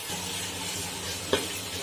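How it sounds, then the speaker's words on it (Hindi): Chopped tomatoes sauté in hot oil in a pan for a chane ki daal and aloo sabzi, giving a steady close sizzle with one brief utensil scrape partway through. "तो टमाटरों को हम थोड़ा नरम होने तक भून लेते हैं।"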